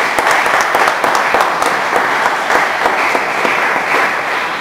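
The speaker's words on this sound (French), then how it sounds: "Je vous demande d'applaudir." A seated audience applauds steadily at a community event in Norway, dense even clapping filling the room at close range with no speech over it.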